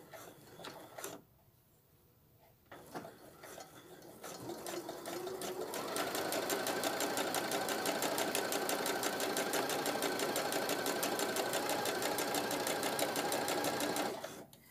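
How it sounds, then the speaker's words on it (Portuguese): A sewing machine stitches along the edge of a mitred-corner cloth napkin, starting with a few short bursts and pauses, then running in a fast, even, continuous mechanical whir before stopping. "bem na beirada aqui eu vou passar a costura"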